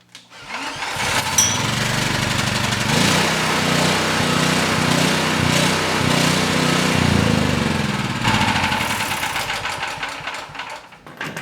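A small gasoline engine with the switch on and choke engaged fires up and runs steadily at a loud, buzzy pitch for several seconds, then the sound changes and falters toward the end.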